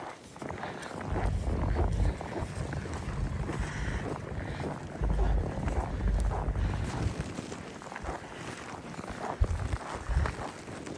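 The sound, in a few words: winter storm wind in Saskatchewan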